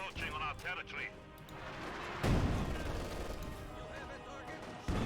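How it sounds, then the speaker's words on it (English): Machine gun fire from a CIS-3 unit in Company of Heroes 2 rattles through dense battlefield noise with explosions and artillery, a loud burst hitting midway and continuing, with a commentator talking over it. "Machine gun hammered here by the CIS-3."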